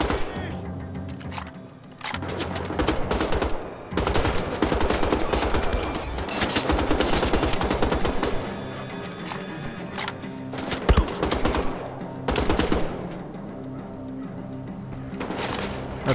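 An exchange of gunfire in Wolfenstein The Old Blood, with dense bursts of automatic fire and single shots repeating across the whole stretch. The shots are loud and close, with a few short lulls between volleys and some game sounds underneath.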